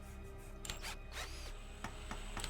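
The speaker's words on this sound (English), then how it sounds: "Generic construction noises on the go there." Generic construction sounds in the SuchArt: Genius Artist Simulator game as a recycler is being built: a steady mechanical hum with scattered clicks, whirs and short power-tool-like bursts, fairly faint and with no talking.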